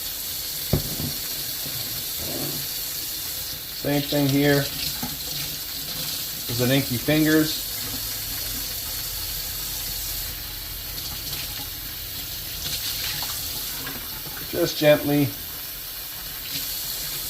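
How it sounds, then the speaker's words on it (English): Running water rinses a seedling's root ball while potting, a steady soft hiss of flowing water under a man's intermittent, quiet talk. "But rinse that root ball."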